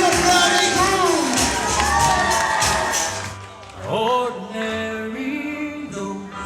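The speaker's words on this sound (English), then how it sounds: "Someone make some noise for your bride and groom." Wedding guests whoop and cheer for the bride and groom in a loud burst lasting about three seconds, then the crowd noise fades as music takes over.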